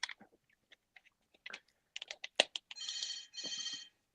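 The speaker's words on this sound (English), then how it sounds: "What is that, an office phone in the background?" A hotel room's office-style desk phone rings in the background: a few faint chirps, then two sustained, fairly loud electronic ringing bursts near the end, with scattered small clicks and mouth noises between them.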